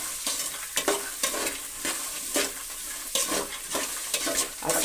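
Dried field beans (avarekalu) roast in a pan while being stirred, a steady dry sizzle broken by repeated scraping, rattling strokes in an uneven rhythm, close and moderately loud, no voices.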